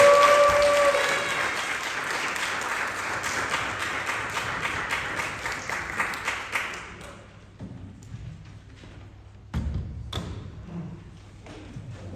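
An audience claps loudly to welcome an 11th-grade student reciting a poem at a school literature day event, with dense applause for about seven seconds that thins to scattered claps and a few thumps.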